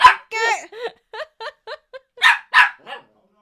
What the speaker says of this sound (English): Not when she's fucking barking at me like that.